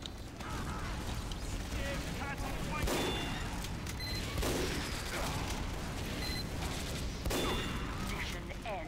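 Team Fortress-style demoman explosions in an online shooter match, a dense barrage of booms and blasts repeating every second or two, with gunfire and clanking mechanisms layered over a constant roar of battle.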